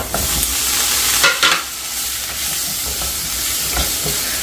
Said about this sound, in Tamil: லைட்டாக ஃப்ரை பண்ணி எடுத்துக்கலாம்.